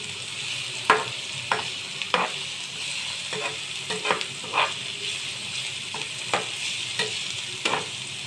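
Chayote and scrambled egg sautéing in a pan, with a soft steady sizzle broken by repeated close spatula scrapes and taps at an irregular pace, with no one speaking.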